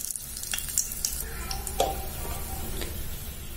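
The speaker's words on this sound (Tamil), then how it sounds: "ஆயில் நெய் ரெண்டும் நல்லா காஞ்சதுமே ஒரு பிரிஞ்சி இலை இந்த மாதிரி ரெண்டா கட் பண்ணி சேர்த்துக்கோங்க" A halved bay leaf sizzling in hot oil and ghee for a cauliflower biryani, giving a soft steady crackle with a few light ticks and clinks, fairly close and quiet.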